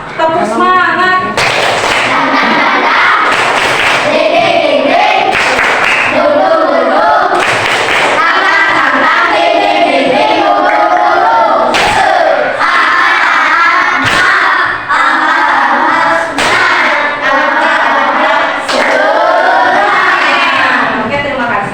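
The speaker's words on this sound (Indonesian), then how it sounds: "Tepuk semangat." Schoolchildren in an elementary classroom clap a rhythmic spirit chant together, loud and close, with repeated sharp claps and group shouting running throughout.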